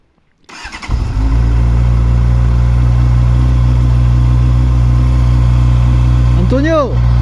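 A motorcycle engine just back from an oil change starts up after a moment of quiet, then settles into a loud, steady idle close by, with a brief blip near the end.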